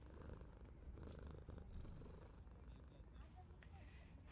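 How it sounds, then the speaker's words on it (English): A small cat in a visual novel game purrs loudly and steadily up close, a continuous low rumbling hum that carries on throughout. "Wow, those are loud purrs."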